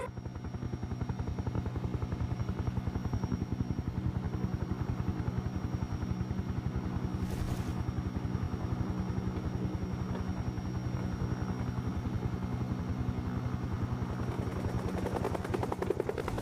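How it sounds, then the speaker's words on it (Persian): A helicopter flies in to land, its rotor throbbing rapidly and steadily at close range and holding loud and constant throughout, with a brief burst of noise partway through. "کاپیتان هلیکوپتر که نشست من پیاده میشم"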